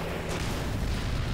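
A weapon discharges in the game Black Mesa as one loud, sustained blast of rumbling, booming fire that fills the whole moment without a pause.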